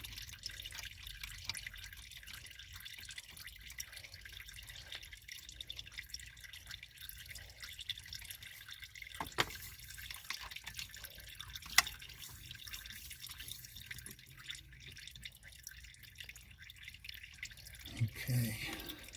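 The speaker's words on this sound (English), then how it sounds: "Can you see this fluid dripping off?" Fluid drips off a 727 Torqueflite transmission during a Transgo shift kit install, soft, scattered drips in a quiet, hissy garage with faint background voices.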